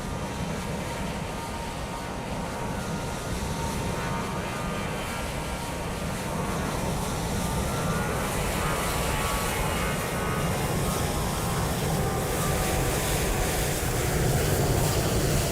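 An airliner departs from London Heathrow in Microsoft Flight Simulator 2020, giving off a steady, loud broadband jet roar that holds and swells slightly across the whole stretch, with no talk over it.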